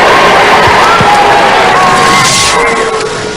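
A large Robot Wars arena crowd reacts loudly as the Mortis robot reaches the final, a dense roar of cheers, whoops and shouts, with children's voices on top, that stays loud and fades slightly at the end.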